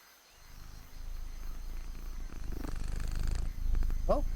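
Close, low purring from a domestic cat builds steadily and continues throughout, with a brief higher-pitched squeak near the end.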